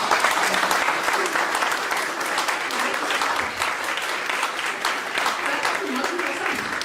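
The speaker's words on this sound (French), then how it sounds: "Applaudissez pour moi." Sustained applause from a conference audience, a dense steady clatter of many hands clapping at close range that carries through the whole stretch without pause.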